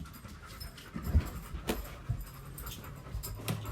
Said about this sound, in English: Hello, puppies.